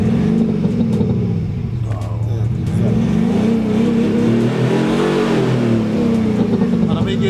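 Ford Ranger Raptor with active exhaust sound, engine roaring close by with rising and falling revs in a loud continuous drone, with people talking over it.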